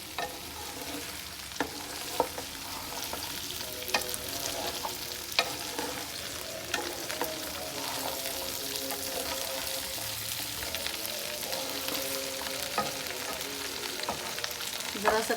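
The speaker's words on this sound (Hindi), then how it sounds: "भिंडी को हम लोगों ने थोड़ा सा फ्राई करना है इसमें।" Chopped okra (bhindi) sizzles steadily in an oiled pan while a spoon stirs it, bringing occasional scraping clicks over the continuous close frying hiss, with no talking.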